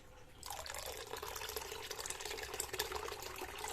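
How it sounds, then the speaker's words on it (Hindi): Water is poured into a smooth gram flour paste for kadhi, a close, steady trickling pour that starts abruptly and keeps running at a soft, even level. "अब हम इसमें मिलाएंगे पानी।"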